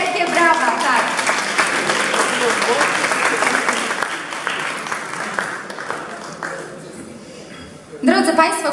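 An audience at an award ceremony applauds steadily, dense clapping that fades gradually toward the end, with a presenter's voice briefly over it.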